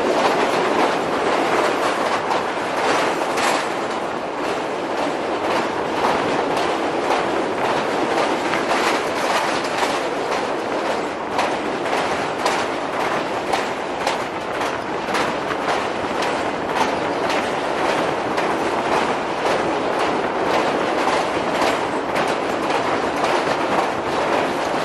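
The Sir Syed Express passenger train crosses the Alexandra Bridge over the Chenab River between Gujrat and Wazirabad, giving a loud, constant rumble with rhythmic clickety-clack of wheels over the rails throughout, and no talking.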